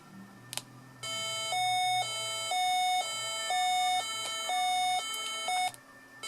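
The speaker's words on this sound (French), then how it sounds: "si vous avez besoin d'une sirène de gendarmerie, c'est le module qu'il vous faut" A battery-powered French gendarmerie siren sound module plays its alternating two-tone wail, switching steadily between high and low notes for about five seconds. The tone is loud, close and clean, with no voices.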